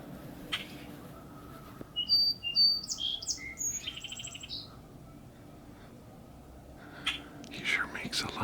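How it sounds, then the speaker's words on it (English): A red-winged blackbird sings in spring: one short burst of whistled notes and buzzy trills, moderately close, partway through an otherwise quiet stretch of outdoor background noise, with faint breathy sounds at the edges. "Here, it's a red-winged blackbird."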